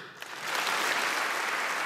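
Sustained applause from a large crowd in the French Parliament, building quickly to a dense, steady roar of clapping that fills the room without pause.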